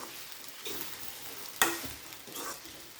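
Broken wheat upma stirred in a pan, a soft, quiet sizzle with a few brief scraping strokes from the spoon over a few seconds.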